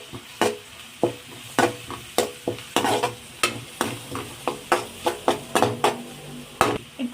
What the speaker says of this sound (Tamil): மஞ்சத்தூள் சேர்த்து கொஞ்சம் வதக்கி விட்டுக்கலாம்.